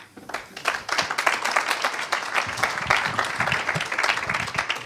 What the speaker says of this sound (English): A warm applause for Daniel.